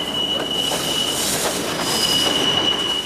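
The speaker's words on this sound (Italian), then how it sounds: "Il treno è ora entrato in linea e senza passeggeri a bordo procede spedito in direzione Battistino." An empty Rome Metro Line A train runs at speed toward Battistini, its wheels squealing in a steady high whine over continuous rumbling rail noise, close and loud throughout.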